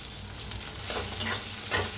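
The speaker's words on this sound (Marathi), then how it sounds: "तेल चांगलं तापले, त्याच्यात टाकूया मिरच्या छान अशा भाजून घेऊया।" Green chillies fry in hot oil for a fasting dish, a close, steady crackling sizzle with stirring movements swelling and easing in short waves, moderately loud and without talk.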